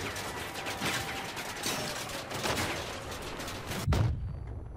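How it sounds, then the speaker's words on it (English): Dense, continuous enemy gunfire in the Crossout vehicle combat game, rapid overlapping shots and blasts forming a steady roar, ending in a heavier boom. "Why is he shooting at me for?"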